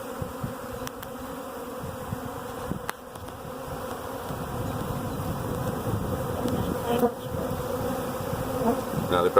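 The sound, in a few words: swarm of honey bees buzzing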